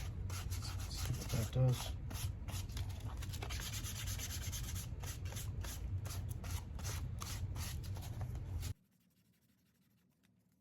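Fine 320 grit sandpaper rubs back and forth in close, steady, rapid strokes for about nine seconds before stopping abruptly, leaving near silence. A brief spoken phrase occurs partway through.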